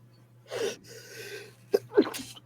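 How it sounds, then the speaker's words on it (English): A single sharp sneeze with a quick breathy intake before it, close and fairly loud over a low steady hum. "I really wanted to try to mute before I sneezed, but I just couldn't get to the mute button fast enough."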